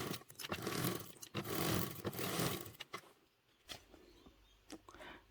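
A sewing machine stitching a clear vinyl bottle bag, a close, quiet whirring run of stitches for about three seconds, then brief stops and short bursts with soft handling noises.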